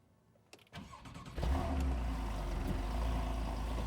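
A Porsche 911 Carrera PDK firing up: a brief crank and catch, then the engine settles into a loud, deep, steady idle rumble close by, with no talking over it.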